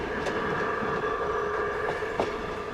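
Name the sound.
miniature model railroad train running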